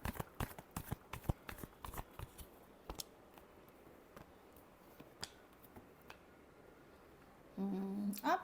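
Tarot cards are shuffled by hand in a string of soft, crisp riffling snaps, close and quiet, irregularly spaced, ending in a brief burst of other noise.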